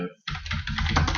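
Fast typing on a computer keyboard, a dense close run of key clicks starting after a brief pause and continuing steadily.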